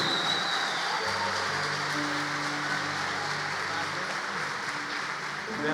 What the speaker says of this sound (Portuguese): Vamos dar um aplauso ao Senhor pela vida dele?